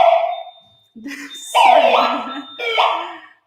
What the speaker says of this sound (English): The power to the alarm panel is back on.